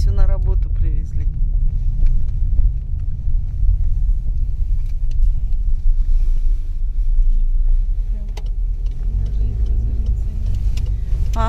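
Many cars pass in a steady stream, making a continuous close road rumble throughout, with people talking over it.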